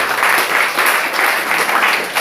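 Congregation applauding for the Lord at a church worship service, loud, dense clapping from a large crowd, sustained and even throughout with slight swells.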